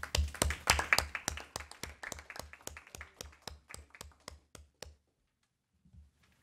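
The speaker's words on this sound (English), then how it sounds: "You should clap." Audience at a school board meeting clapping in a steady, fairly even rhythm of about twenty crisp claps, close and sparse like a small group, stopping abruptly into near silence.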